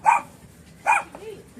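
A puppy gives two short, sharp barks about a second apart, close and fairly loud, followed by a faint whimper.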